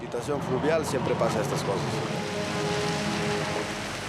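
Rain falls steadily on an unstable mountain road, a dense hiss running throughout beneath someone talking close by.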